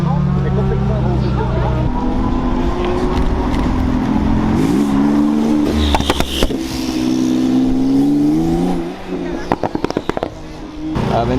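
A Lamborghini Aventador supercar at a supercar gathering revs and accelerates loudly, rising engine tones with sharp crackling pops, amid crowd chatter and other passing cars.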